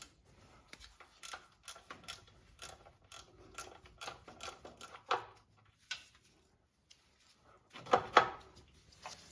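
A wrench clicks and ratchets in bursts while unbolting cooler lines on a 2007–2021 Toyota Tundra engine, close metallic taps and short scraping turns separated by pauses, with one louder clattering burst near the end.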